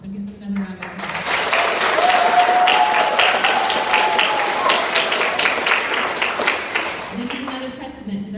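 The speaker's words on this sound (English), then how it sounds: "So give another round of applause." Sustained audience applause at a DARE graduation ceremony, rising after a brief pause and holding steady for several seconds before tapering off, with a voice speaking briefly at the start and end.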